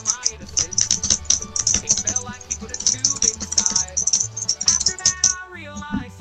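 Computer keyboard keys spammed rapidly in a fast, irregular clatter of sharp clicks and rattles, loud and close, continuing for several seconds.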